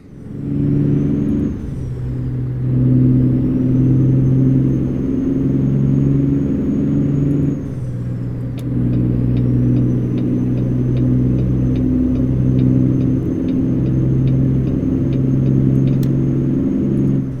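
Heavy truck engine in American Truck Simulator, a loud, deep rumble that rises and falls through gear changes, with brief dips between shifts and a steady drone while cruising, no talking.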